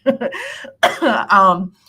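A person coughs several times in quick succession, hoarse and close, with throaty voiced bursts.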